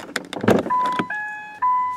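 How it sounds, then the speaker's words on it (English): After some clunks and rattles, a 2010 Ford Focus Titanium Mk2 hatchback's electronic lights-left-on warning chime sounds in repeated steady tones, close and clear. "that noise there is because I left the lights on"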